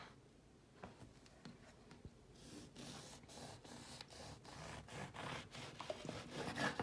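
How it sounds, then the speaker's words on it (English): A bread knife saws through a loaf of vegan walnut milk bread, a series of close, soft rasping strokes that grow louder and more rhythmic toward the end, with no voices. "And I'm going to cut it here with my bread knife."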